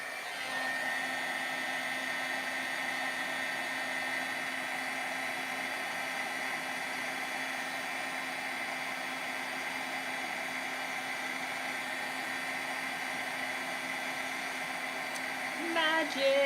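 Heat tool blowing hot air to melt embossing powder for scrapbooking, a steady close whooshing whine with a high tonal hum that runs unbroken throughout, alone with a small clatter near the end.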